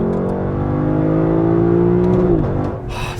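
The V8 of a 2021 Lexus LC500 revs hard and close by, its loud, rising tone holding steady before it drops off sharply near the end.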